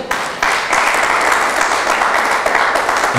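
A church congregation claps and cheers together in sustained, dense applause that stays loud and steady throughout, with no voice speaking over it.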